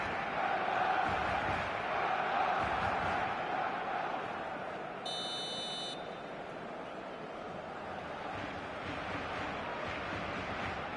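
A stadium crowd in a football video game roars as a steady, dense wash of cheering and chanting throughout, with a brief electronic beep tone sounding midway.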